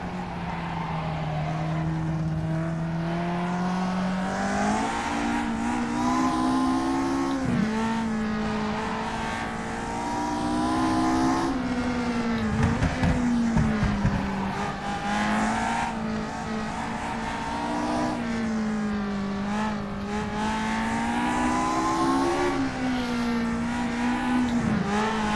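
Lotus 49b race car engine in third gear in rFactor 2, a loud, steady, buzzing howl that rises and falls with throttle through corners, with brief tyre scrubs, running unbroken throughout.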